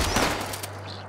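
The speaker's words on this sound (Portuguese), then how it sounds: "Levou tanto tiro, coitado." Gunfire in the video game Fallout 76 rattles in a rapid, loud burst right up front, with no talk over it.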